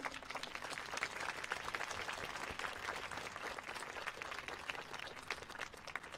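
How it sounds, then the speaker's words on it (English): Audience applause at a college transfer achievement celebration at Mount San Antonio College, a steady, dense wash of clapping that holds evenly throughout without pause. "If you can please applaud the audience."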